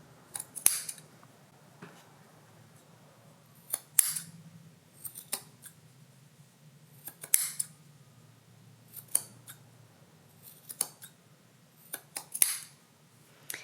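Scissors snip off the string ends around a macramé mandala gift topper, about a dozen crisp close cuts at irregular intervals, some in quick pairs, over a quiet background with no talk.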